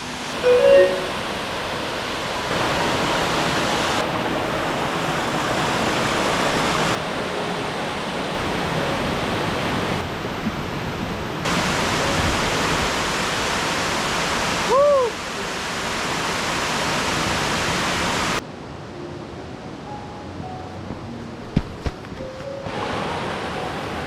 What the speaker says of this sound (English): here's our next fall. This is a top-down look at FL Ricketts Falls